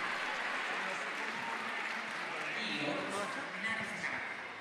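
An audience applauds a singer at a live open-air event in Ollolai; a steady wash of clapping and crowd noise holds throughout at moderate, distant loudness.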